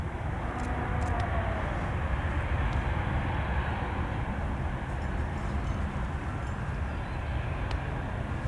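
A Qatar Airways Boeing 777-300ER jet airliner on a runway at Manchester airport gives a steady, broad engine roar that holds throughout at moderate loudness, with faint brief clicks above it.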